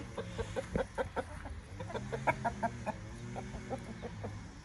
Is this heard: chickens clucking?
yes